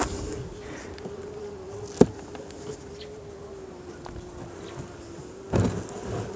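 A steady honeybee hum fills an open hive, constant and close, with a few sharp knocks and a brief scraping bump near the end.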